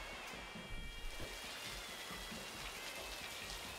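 Waterfalls trickling into pools of clear water in a wadi in Oman, a continuous broad splashing and rushing wash, steady and fairly faint, with no voices.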